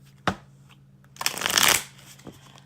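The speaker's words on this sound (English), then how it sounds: "I just have to get these cards shuffled until they tell me to stop." A deck of tarot cards is riffle-shuffled at close range, a loud rapid flutter lasting about half a second after a single sharp tap, with a faint tap following and no talking.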